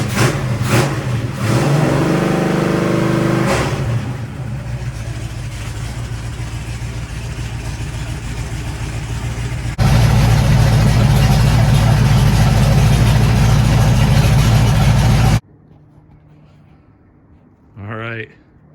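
Car engine revved hard after exhaust work and zip-tie repairs, a loud open engine roaring in long sustained bursts, then cutting to near silence before a brief rising rev at the end.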